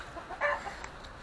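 Chickens cluck in a wooden coop out in the countryside, a few short close clucks and calls in a quiet setting.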